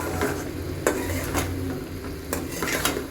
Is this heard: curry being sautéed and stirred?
yes